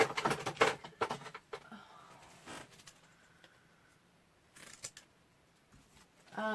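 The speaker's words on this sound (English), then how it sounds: "Really nice scissors." Scissors snipping paper craft tags up close, with a quick burst of crisp cuts at first, a few scattered snips later, and quiet rustling of paper in between.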